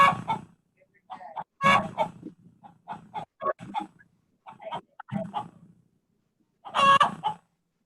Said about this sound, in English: What's wrong with that chicken, Grizz?